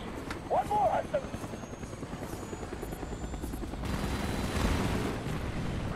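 Helicopters drone steadily in the Call of Duty Black Ops shooter, a continuous rotor thrum carried under distant gunfire and explosions, swelling louder toward the end while a voice is briefly heard early on.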